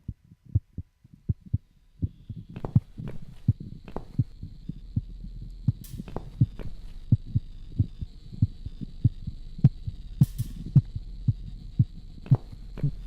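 Steady heartbeat thuds from an old machine in The Cat Lady video game throb at an even rhythm over a constant low hum, with no talking.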